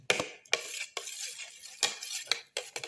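Ginger, garlic and tomato being mixed and crushed with a spoon in a pan for a mustard leaf omelette, repeated scraping and knocking strokes against metal, close and moderately quiet, in an uneven rhythm.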